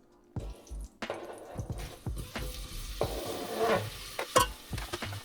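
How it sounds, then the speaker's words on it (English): Onions and garlic sizzle and crackle frying in a pan, with stirring clinks and scrapes in irregular bursts, close by and with nobody talking. "You can see here I'm frying the onions."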